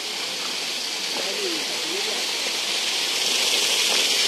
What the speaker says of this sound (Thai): นี่คือมีน้ำตกด้วยนะครับ